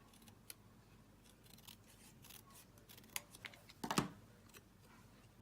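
Scissors or snips cut card for a gingerbread man Christmas box, making quick soft snipping clicks in an uneven run that builds to a cluster of louder snips near the end, close and quiet.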